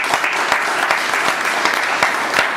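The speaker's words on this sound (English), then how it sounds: "Let's give a big round of applause." A crowd gives a big round of applause, a dense steady wash of many hands clapping at once, loud and sustained without pause and with no voices over it.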